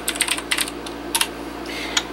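Keys on a QuickFire TK mechanical keyboard, clattering in short irregular bursts of sharp clicks, close and crisp over a faint steady hum, with no talking.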